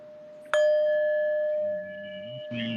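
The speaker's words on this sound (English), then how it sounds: "I ring the bell because it is time to allow Stefi to speak" A bell is rung once to signal a turn to speak, giving a sharp strike and a clear, sustained ringing tone that slowly fades, with a low voice briefly heard at the end.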